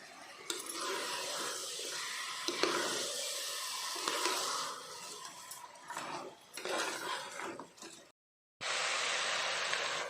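Rice for biryani being stirred in a hot pan, a steady loud sizzle broken by scraping and mixing strokes, with a short silent gap near the end before the sizzling comes back.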